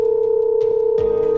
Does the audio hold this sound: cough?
no